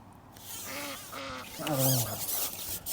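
A duck on a fishing lake lets out a quick run of nasal quacks, close and fairly loud, over open outdoor background noise.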